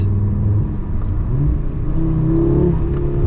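A 2025 Audi RS3 engine revving hard under full-throttle acceleration, a loud, close, continuous rising growl with shifting pitch and no talking.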